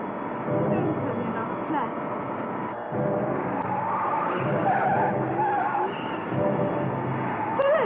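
Tires squeal and skid as a car veers out of control with a steering fault in an old horror film scene, a continuous rough grinding under dialogue and music, loud throughout.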